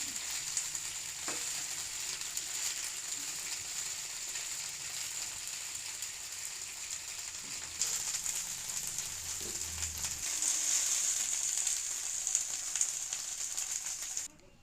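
Okra frying in a kadai over a medium flame, a continuous close sizzle with bright crackling, a few scrapes and stirs, and a brief low knock around the middle before it cuts off at the end, no talking.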